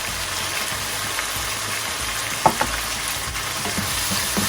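Chicken with chilli flakes and pepper powder sautés in a pan, a loud, continuous close sizzle broken by a few brief scraping and stirring knocks.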